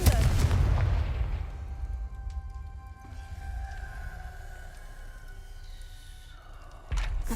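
A Confringo fire spell detonates in Hogwarts Legacy, opening with a loud, deep boom that decays into a long rumbling, ringing tail, with a second sharp impact near the end.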